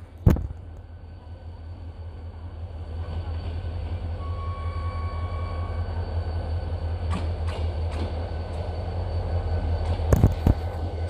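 A 1997 Korail Mugunghwa passenger train hauled by diesel locomotive 7420 arrives at a small station, its low engine drone building steadily, with scattered metallic clanks and knocks near the end.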